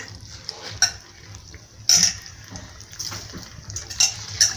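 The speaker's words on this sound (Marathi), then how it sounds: "धुतलेले तांदूळ आपण याच्यात टाकून घेऊ" Washed rice tips into a pan of frying vegetables for pulao, heard as a few scattered clinks and scrapes of utensils against the metal with soft grainy rustling between, fairly quiet and with no voice.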